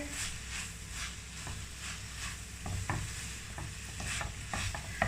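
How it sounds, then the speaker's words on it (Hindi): A spoon stirs ground coriander into softened cooked vegetables in a pan for macaroni potato kababs, giving repeated scraping strokes over a low sizzle, close and fairly loud with no talk. "अब इसके अंदर मैं डालूंगी 1 चम्मच भरकर धनिया पीसे हुए का। ये मिक्स करेंगे।"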